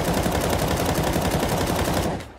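Rapid automatic gunfire in Counter-Strike 2, a dense, loud, continuous burst of shots lasting about two seconds before cutting off abruptly.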